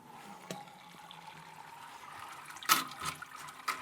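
Water trickles and dribbles steadily from a brewing hopper of wet grain while brewing an English porter, with a few louder splashy bursts near the end as liquid drains out.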